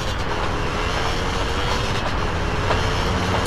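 A train rumbles past steadily and loudly in Grand Theft Auto: San Andreas, a continuous rolling roar with no voices over it.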